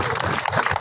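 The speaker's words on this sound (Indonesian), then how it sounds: "Tepuk tangan untuk kami semua." A crowd at a youth gathering in Papua bursts into brief, dense applause, a short close burst of many clapping hands with no pause.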